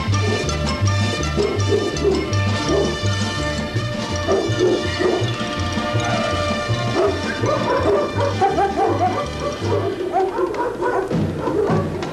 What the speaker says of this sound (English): In agitation training, the dogs are taught to tongue out or bark.